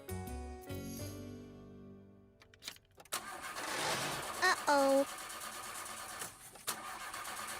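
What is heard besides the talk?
cartoon car engine struggling to start in cold weather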